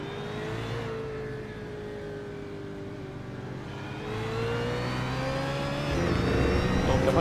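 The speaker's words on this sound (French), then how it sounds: "on entend le moteur" A BMW race car engine in the iRacing game at Interlagos drones steadily at mid-pitch, rising and falling with gear changes and revs, loud and continuous throughout.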